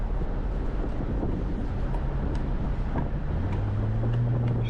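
Wind rushing through an open window of a moving VS Ute, a steady loud buffeting roar with low engine hum underneath, continuous and without talk.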